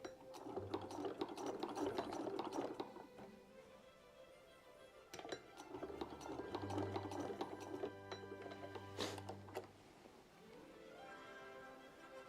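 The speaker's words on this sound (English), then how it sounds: "I am sewing that properly, right?" A sewing machine stitching an Edwardian dressing gown runs in short mechanical bursts with pauses between them, close and fairly quiet.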